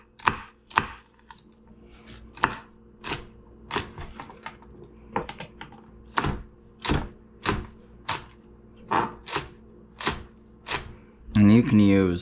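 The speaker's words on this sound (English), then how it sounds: "I'm just going to chop them up." A knife chops green onions on a cutting board for mei fun, about a dozen sharp, evenly spaced thwacks in a steady rhythm, close and crisp, ending with a brief clatter.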